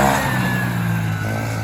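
The engine of a kid's beginner ATV four-wheeler runs at a steady, close putter with a strong low rumble and a faint whine, briefly and without a break.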